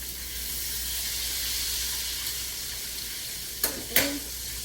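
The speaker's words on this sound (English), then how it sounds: "I'm frying the chicken up at the same time, the last batch" Steady sizzling and hissing of chicken strips frying in hot oil, constant and close, with a couple of brief clinks near the end.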